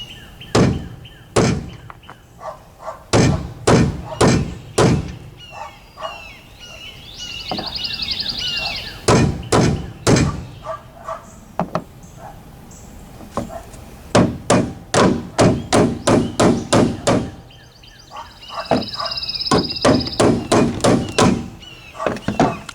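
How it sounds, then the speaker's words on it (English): A mini sledgehammer knocks on the tailgate panel of a Toyota Tundra in sharp, loud metallic taps, delivered in quick runs and single blows, with brief whirring tool noises in the pauses. "So I'm hoping with the mini sledge, a few strategically placed taps."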